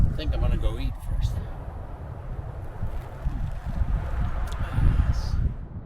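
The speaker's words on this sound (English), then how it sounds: "It's a little windy." Wind gusting around an outdoor camp in the Blue Ridge area of Arizona, a steady low rumble of air buffeting the microphone, swelling and easing throughout, with a voice briefly audible early on.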